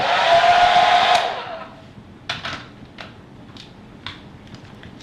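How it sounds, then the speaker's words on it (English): A blow dryer plugged into a USB charging electrical outlet runs with a loud, steady hiss for just over a second, then cuts off, leaving a few faint scattered clicks. "Plug in your blow dryer,"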